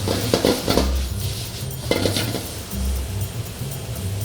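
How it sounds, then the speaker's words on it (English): Onions tipped into a pan of cooking pork are stirred with a utensil, giving clattering scrapes and knocks against the pan over a low sizzle, close and fairly loud. "Now I want to add my onions."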